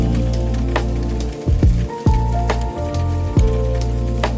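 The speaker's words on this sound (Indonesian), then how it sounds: "hanya rintik hujan dan jalan yang sepi" Rain falling on a quiet city street at night, steady close patter and hiss with several brief swooping tonal sweeps over a soft musical bed, no speech.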